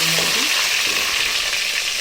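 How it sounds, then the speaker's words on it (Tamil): Close, steady sizzling of fenugreek seeds and lentils frying in hot oil, a bright crackling hiss that fills the whole moment without talk. "வெந்தயமும் கடவுள் பருப்பும் நல்லா பொரியட்டும்"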